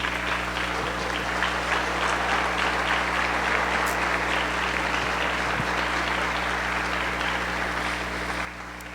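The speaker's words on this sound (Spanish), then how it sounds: "¿Por qué no le das un fuerte aplauso al Señor?" Strong, sustained applause from a church congregation fills the room, dense clapping held at an even level for several seconds before dropping off abruptly near the end.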